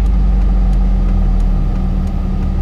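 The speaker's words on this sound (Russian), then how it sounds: "Обеспечивая стабильную работу двигателя" A car engine idles with a steady low rumble on a cold start in winter, continuous and fairly loud throughout, with no voices.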